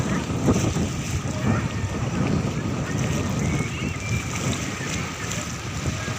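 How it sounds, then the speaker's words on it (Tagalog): Strong sea wind near a boat buffets the microphone in a constant low roar, with the rush of surf underneath, loud and unbroken. "Tsaka malakas pa yung hangin"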